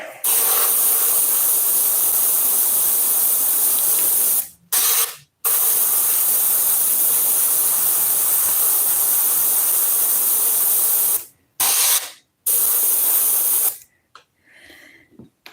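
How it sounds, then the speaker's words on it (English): An airbrush sprays paint in light coats with a loud, close, continuous hiss, broken by a few brief pauses as the trigger is released, and a softer sputter at the very end. "I'm only airbrushing. So light coats."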